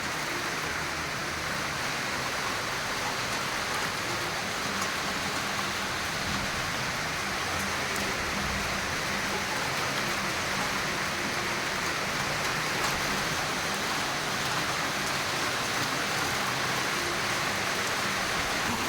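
Heavy rain pours onto a cricket ground in Nalbari, a dense, even hiss that stays loud and unbroken throughout, with no voices.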